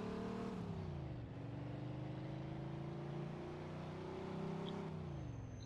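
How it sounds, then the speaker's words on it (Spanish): A car engine revs up steadily with a rising, sustained roar, loud and continuous with a slight gear shift near the end, accelerating hard in Mafia 2. "Ahora yo lo quito y pego un buen acelerón."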